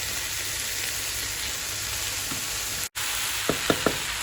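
Washed, soaked rice being stirred in a pan for chestnut rice, a steady soft sizzle and scrape running throughout with a brief dropout near the end and a few light clinks of the utensil.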